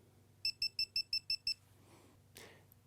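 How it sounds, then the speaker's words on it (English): Seven quick, evenly spaced electronic beeps from a GoPro camera, crisp and close, followed by a short rustle and a faint click. "the audible notifications there through beeps"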